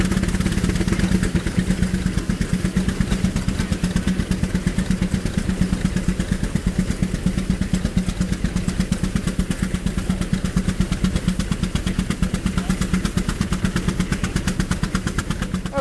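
A steam engine fitted to a 30-horsepower boiler runs at a steam show in Ohio, giving a loud, fast, unbroken rhythmic chuff close by with no talking.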